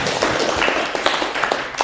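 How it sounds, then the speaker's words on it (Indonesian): Students in a classroom clap their hands in a dense, lively burst that runs the whole moment, close and loud, with no voices. "Tepuk tangan buat Tony."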